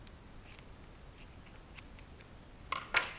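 Scissors snipping the excess cords off a handmade brooch, two quick close snips near the end after a quiet stretch.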